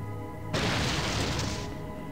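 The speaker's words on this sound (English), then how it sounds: "the explosive detonates prematurely" Explosive detonation in the game Fallout 2, a sudden loud blast bursting in after a brief quiet moment and roaring steadily for about a second before cutting off.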